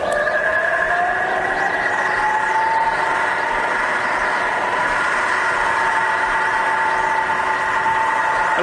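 A Bridgeport milling machine with a Vari speed head and 42-inch table runs steadily, a continuous mechanical whine and hum with a tone that shifts slightly as the speed changes, loud and close with no talk.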